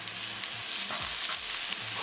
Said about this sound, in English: Cooking ginger along with onion for 1 minute